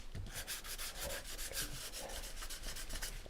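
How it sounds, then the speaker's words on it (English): A small handheld sander works gently over a painted surface, a steady close rubbing buzz with a regular pulsing rhythm and no talk. "sand my surface here to remove some of these hairs"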